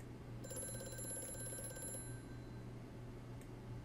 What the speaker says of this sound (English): I'm gonna let it ring. What? Yeah. I'm gonna answer the phone